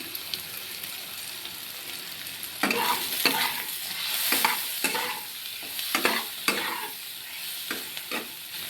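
Lightly fried cucumber pieces being stirred with turmeric, chilli and cumin powder and salt in a pan for cucumber curry, a steady sizzle under repeated scraping strokes of a spatula, close and moderately loud, with no voices.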